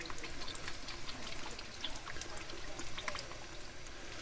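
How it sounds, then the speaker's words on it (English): Worcestershire sauce is poured into a big pot of heating beef stew: a close, steady liquid pour with a soft trickling texture, alone and without speech. "We can add some Worcester sauce into this."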